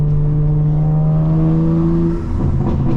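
A loud, steady engine intake drone from a 2024 BMW M4 Competition with a rising whine, close up and continuous, swelling slightly as it revs.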